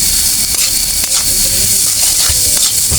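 Potatoes frying in a pan, a loud, dense hissing sizzle that holds steady, with a few brief scraping stirs cutting through.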